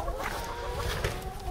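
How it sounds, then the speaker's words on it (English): A loose chicken clucks close by in a rapid, continuous run of short calls, with no talking. "accidentally released a chicken."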